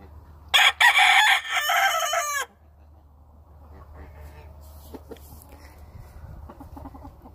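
A lacy roundhead brood rooster, pea-combed and pearl-legged, crows once loudly and close by, a full drawn-out call with clucky breaks. Quieter farmyard ambience and a few faint clucks follow, with no talking.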